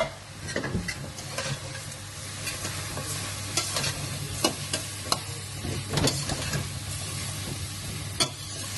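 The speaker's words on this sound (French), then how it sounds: "Et là, on va faire suer notre garniture" Diced onions, leeks, carrots, mushrooms and smoked bacon sweat gently in butter in a pan, giving a soft steady sizzle beneath repeated sharp scrapes and clacks of a spoon stirring the vegetables, with no voices.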